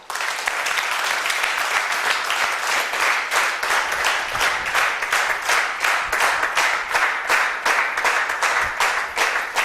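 A seated audience at a network marketing training session bursts into steady, loud applause, many hands clapping continuously without a break.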